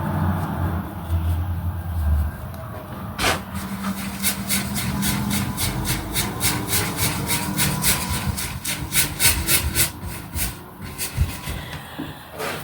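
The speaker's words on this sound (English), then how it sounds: "It's the nature of brushes on canvas to make noise, I guess." A paintbrush scrubs rhythmically across a rough canvas, quick back-and-forth rasping strokes, close and steady, with no voices.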